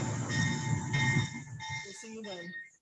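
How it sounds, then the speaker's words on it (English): Train station ambience, with a train rumbling past steadily and faint, thin wheel squeal and tonal whines, continuous and fairly distant, with voices faintly underneath. "I'm at the train station."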